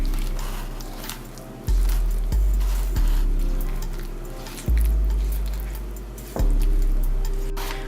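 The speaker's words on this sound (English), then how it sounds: "Start to mix the cornbread together." Vegan cornbread batter sweetened with agave is mixed in a bowl. The wet, squishy stirring is punctuated by deep, rhythmic thumps every second or two, with no talking.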